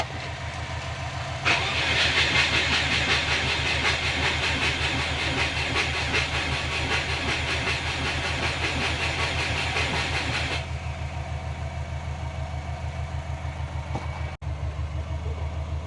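A Subaru Forester engine runs with a steady, close mechanical drone. It swells louder shortly after the start, holds a rough, even idle, then settles slightly quieter for the last few seconds.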